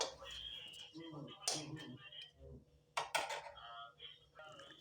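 Dry spices (a dried red chilli, a bay leaf and whole cumin seeds) are stirred without oil in a metal kadai, giving a series of clinks and scraping rattles of varying loudness.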